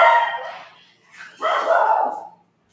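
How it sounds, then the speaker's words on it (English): A dog vocalizes close by in two short rough bursts separated by a brief pause, loud and alone against a quiet background. "Is that your dog growling?"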